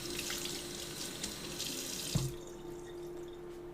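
A cup of water runs steadily into a slow cooker, a continuous close splashing stream that ends about two-thirds through, followed by a quieter trickle.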